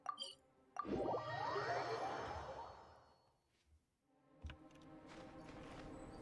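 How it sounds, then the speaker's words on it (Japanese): Notification chimes ring out sharply over busy game audio, a bright cluster near the start followed by a quieter second burst a few seconds later. "通知音うるさいって。"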